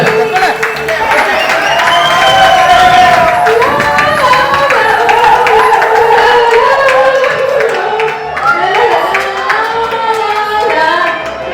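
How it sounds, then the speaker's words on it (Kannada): Clapping from a group at a batch get-together at Discovery Village, Nandi Hills, dense handclaps close by and loud under lively overlapping voices and crowd chatter, continuing for several seconds with a brief dip. "ಚಪ್ಪಾಳೆ."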